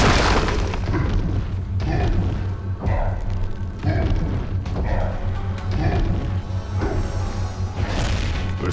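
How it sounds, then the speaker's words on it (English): A payload firing on the enemy core in the Heroes of the Storm video game, heavy booming impacts repeating every second or so over a constant loud battle drone. "Payload firing upon enemy core."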